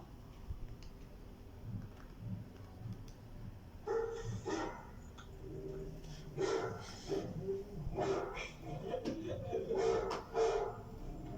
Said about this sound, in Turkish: Köpek havlama sesi.